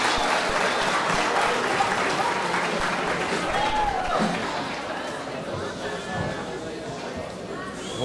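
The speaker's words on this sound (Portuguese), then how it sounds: "Uma grande salva de palmas para recebermos então o bailinho de carnaval" An audience at an evening carnival celebration with a visiting group from Terceira applauds steadily, a dense crowd roar of clapping and chatter that holds throughout.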